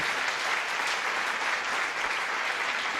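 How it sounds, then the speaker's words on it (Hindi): Loud, dense applause from an audience at a Hindi poetry recital fills the full three seconds, steady and close with no break. "एक बार जोरदार तालियां बजा दीजिए"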